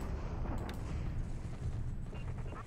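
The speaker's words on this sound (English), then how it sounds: "And he bombards at Manila." Naval bombardment of Manila in a 1920s Pacific war strategy game, heard as a steady rumbling barrage of booming artillery fire that fills the whole stretch without a break.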